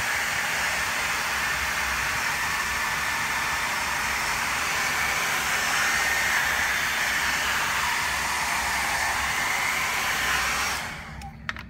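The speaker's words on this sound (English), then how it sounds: "So one more time with the hairdryer, I'm going to focus the air onto those holes." A hair dryer blows steadily at close range onto holes in a circuit board during electroplating, a constant broadband whoosh that cuts off abruptly near the end.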